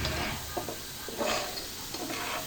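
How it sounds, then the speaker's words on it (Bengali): Chopped garlic and chopped potato sizzle steadily in hot oil while being stirred constantly, with a dense close frying hiss and soft scraping pulses and no talking. "ভালো করে অবরত নাড়তে থাকবো। সাথে কিছু রসুন কুচি দিয়ে দিব"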